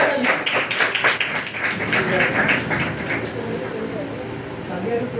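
An audience claps together to welcome a speaker at a study-tips talk, steady dense applause building for a few seconds and then tapering off, fairly loud and close.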